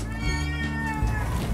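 A house cat meows loudly and close, one drawn-out, tonal cry held for over a second against a low background rumble.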